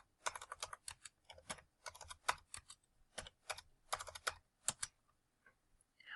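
Quick bursts of keystrokes on a computer keyboard as values are entered into form fields, clicking clearly at a close distance in uneven clusters separated by brief pauses, with no one talking.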